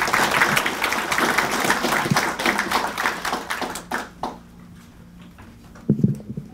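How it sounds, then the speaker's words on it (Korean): An audience applauds after a panel discussion at a Korea University biodefense symposium: dense clapping for about four seconds, then it thins to a few scattered claps and a brief thump. "좋은 말씀 해주신 패널 분들께 다시 한번 박수 부탁드립니다"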